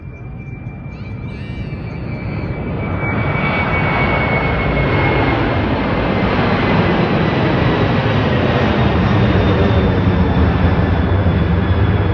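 Boeing 777 cargo plane passing over Anchorage, Alaska, near a refueling stop: a loud, broad jet roar that swells over the first few seconds and then holds steady and close.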